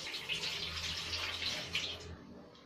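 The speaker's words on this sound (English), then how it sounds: "put a cold water or ice water to the basin or to your" Cold water pours steadily into a basin, a close, continuous splashing gush that tapers off near the end.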